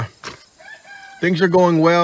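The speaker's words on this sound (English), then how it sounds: "You can hear the rooster in the background." A rooster crows loudly nearby in a long, drawn-out call, with its rising harmonic cry carrying over a voice that talks briefly at the start.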